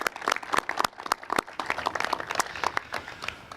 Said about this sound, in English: Can we give the commissioners a big round of applause for all they do?